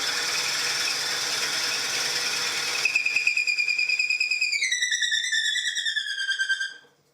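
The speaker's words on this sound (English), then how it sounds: "I think the squeal's telling us that our bit's full and we need to clean it out." A drill bit boring into a handle insert on a lathe, its chip flutes packed full, gives a steady grinding whir that turns into a loud, sustained high squeal with a falling pitch before cutting off at the end.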